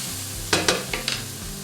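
Mushrooms cooking in a pan for a truffle cheese burger, with a steady low sizzle broken by four short scraping stirs close by, all without any talk.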